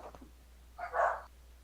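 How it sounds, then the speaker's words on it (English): Dogs bark once in a short, fairly loud burst, preceded by a few faint yips. "Let my dogs bark for a second."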